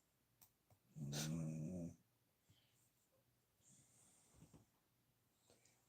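A dog snoring indoors: one loud, rough snort-like breath near the start, then faint soft breathing and small snuffles in a quiet room, close by.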